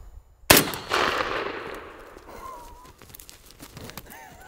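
A single sharp, loud gunshot cracks out, followed by a long decaying echo, then faint rustling and movement.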